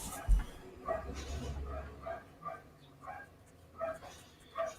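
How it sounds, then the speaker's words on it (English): Dogs bark repeatedly at a distance, a series of short sharp yaps spaced about a second apart, faint against quiet outdoor background. "You got the dogs barking."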